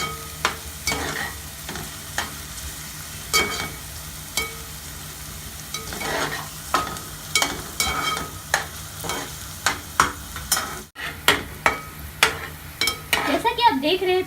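Sliced onions sauté in a pan for egg bhurji, with a low continuous sizzle under repeated close scrapes and taps of a spatula stirring them.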